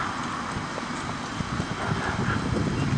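A horse's hooves clip-clop steadily at a horse and cow clinic as it is ridden past a dummy, a continuous rhythmic thudding heard fairly close over outdoor background noise.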